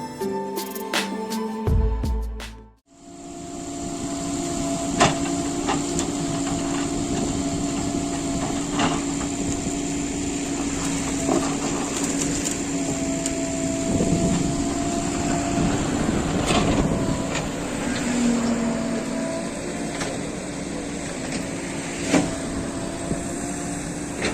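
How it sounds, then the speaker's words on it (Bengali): A JCB machine clears jungle for NH 12 road widening, its engine a steady, loud, close drone with a persistent whine, occasional knocks and clanks through the run, and no talking. "এই জেসিবি মেশিন দিয়ে কীভাবে এইসব জঙ্গলগুলিকে পরিষ্কার করার কাজ চলছে"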